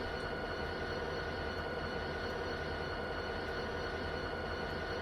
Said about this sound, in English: Oh, we just turned the train around.